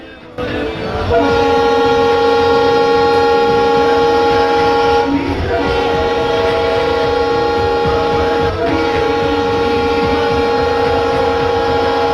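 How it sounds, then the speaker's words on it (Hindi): Long, sustained train horn on the Kottayam-Nilambur Express in the Railworks train simulator game, a loud steady multi-tone blast holding for many seconds over engine rumble. "तो अब हम यहाँ से एक लंबा हॉर्न बजा देते हैं।"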